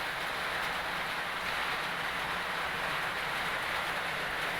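Heavy rain pours down steadily, a dense, loud, unbroken hiss of water on surfaces without any break.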